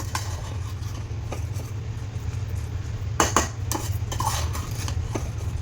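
A spoon stirs peas pulao in a metal pot, giving scattered clinks and scrapes against the pot over a steady low background hum, with one louder knock midway.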